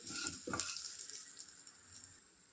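Ginger and lentils fry on a low flame in a pan, giving a soft, steady sizzle with a couple of early scraping stirs, fairly quiet and close.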